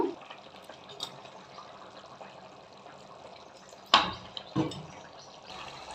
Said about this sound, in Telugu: ఇప్పుడు నేను చింతపండు పోస్తాను.